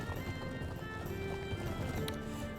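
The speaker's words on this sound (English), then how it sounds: "We're gonna start bringing the heavy horses into gear." Heavy cavalry galloping in Medieval 2, a dense low rumble of many hooves with faint whinnies mixed into battle noise at a steady loud level.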